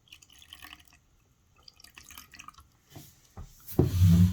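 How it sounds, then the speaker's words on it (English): Water drips and trickles in short bursts, then a louder pour splashes into liquid at the end as water is poured into black paint for mixing. "we're going to mix up a lot of water and some black paint"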